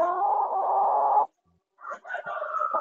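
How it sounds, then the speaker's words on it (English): A hen gives a run of steady, throaty clucking, then falls silent briefly before a few more choppy clucks and squawks, close by. "There's a little red hen."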